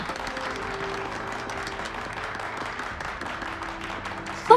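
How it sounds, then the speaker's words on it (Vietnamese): Applause from a group greeting an arriving engineer at a submarine test facility in a wartime action drama, steady dense clapping throughout at moderate level with no talk over it. "Các đồng chí đã vất vả rồi, kỹ sư sở đến rồi, vỗ tay nào."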